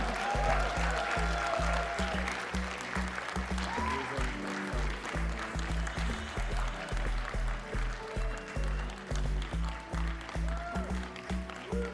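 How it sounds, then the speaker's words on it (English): Applause at the British Urban Film Festival awards show, sustained clapping from the audience over music with a heavy rhythmic beat, running steadily for several seconds. "We're going to keep the round of applause going."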